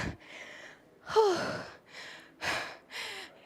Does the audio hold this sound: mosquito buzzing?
no